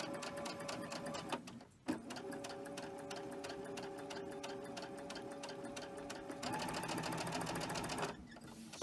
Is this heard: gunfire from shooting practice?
no